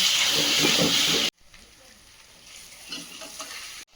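Chicken frying with spices, ginger and garlic in a pan gives a loud, steady sizzle with stirring scrapes at first, then drops to a quieter hiss with occasional spatters.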